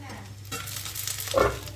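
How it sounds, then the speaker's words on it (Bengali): A spatula stirs prawn pulao in a lidded kadai after dum cooking on a low flame: a brief, close scraping stir over soft sizzling, ending in a louder scrape. "একবার ভালোভাবে নাড়াচাড়া করে নিচ্ছি যাতে নিচের দিকটা বসে না যায়।"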